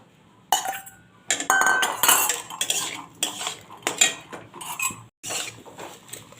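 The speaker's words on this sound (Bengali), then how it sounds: "এবার ভেজে রাখা আলু কচুটা দিয়ে দিচ্ছি" Fried potato and taro pieces are tipped into masala in a pan, making close, loud metallic clatter and scraping from a spoon and utensils in irregular bursts, with brief quiet gaps between them.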